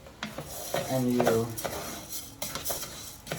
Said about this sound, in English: You can hear it sizzling a little bit